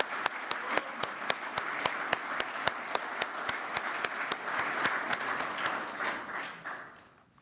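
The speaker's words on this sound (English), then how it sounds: "Please join me in a round of applause for our Offensive Player of the Year finalists" A round of applause at the 2023 Bushnell Cup presentation, with a rhythmic clap track over it, builds into a steady wash of clapping from a large audience, then fades away toward the end.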